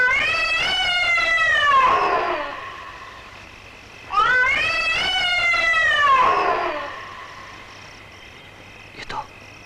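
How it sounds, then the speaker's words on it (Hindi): A cat gives two long, drawn-out meows, loud and close, each rising then falling, in an eerie horror film scene with a quiet low hum beneath. "ये तो उसी बिल्ली की आवाज है।"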